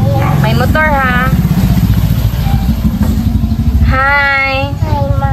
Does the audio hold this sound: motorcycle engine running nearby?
yes